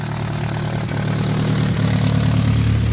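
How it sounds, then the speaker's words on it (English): A Nissan S14 240SX engine idles with a steady, close, low rumble, holding an even pace throughout with no voices. "It is finally idling healthily though."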